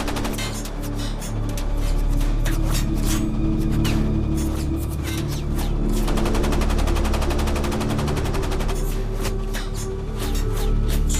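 Several machine guns aboard the Japanese ship Hayasaki fire on the deck of the submarine USS Growler in a sustained, loud fusillade. The rapid bursts hammer on for the whole stretch with no pauses.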